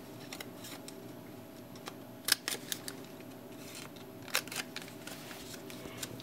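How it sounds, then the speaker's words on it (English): Corner rounder punch cutting the corners of a paper gift card, a few sharp quiet clicks and crunches spaced apart over faint room hiss, heard close. "now we're going to take our corner rounder and we're going to round these 2 edges for this piece"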